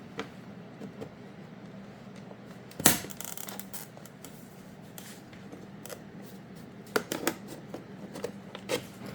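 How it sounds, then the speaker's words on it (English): A pry tool works around the front grille of a BMW X5, giving scraping, rustling plastic noises with a sharp crack near the start and a cluster of snaps and clicks later, close and moderately loud. "So I'm going to stick my little pry tool in here and let it work its way around."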